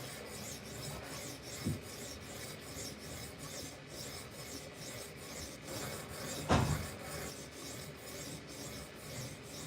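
A knife edge is drawn across PDT sharpening stones, moving quickly through the grits to refine it, giving a steady, close rasping stroke after stroke, with one sharper, louder scrape partway through.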